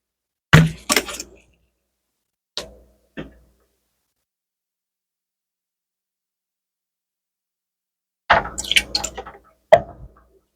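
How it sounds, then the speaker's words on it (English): White vinegar, two tablespoons, goes in for cashew chicken with a few short, soft liquid splashes and drips, then a longer burst of pouring and splashing after a quiet pause. "I'm going to use regular vinegar. Regular white vinegar, 2 tablespoons"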